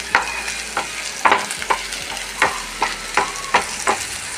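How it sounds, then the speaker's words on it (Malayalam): Sliced onions frying in a pan for an egg curry, a steady soft sizzle broken by regular scraping stirs roughly every half second, close and moderately quiet. "നമ്മൾ വെച്ച സബോള കുറച്ച് ഫ്രൈ ആയി തുടങ്ങി."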